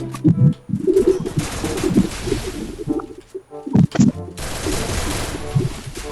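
A Cobra gun fires in a battle video game: loud, rapid bursts of automatic gunfire in several volleys separated by short pauses, with no talking.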